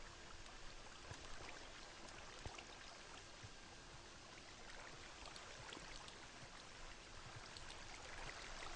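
Flowing water from a water source in a French-language block-building survival game, a steady soft trickle and stream wash running continuously and fairly faint on its own.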